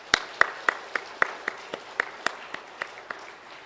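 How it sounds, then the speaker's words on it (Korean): Encouraging applause from a church congregation, heard as about a dozen sharp, evenly spaced claps in a steady rhythmic beat, crisp and fairly close, over a quiet room. "우리 그분들에게도 격려의 박수"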